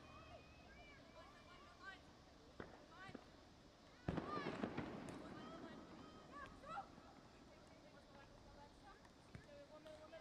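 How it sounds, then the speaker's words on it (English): Leftover fireworks crack and pop at a soccer match, one sharp close burst and then scattered smaller bangs over crowd murmur and outdoor ambience. "As some leftover fireworks ring out here."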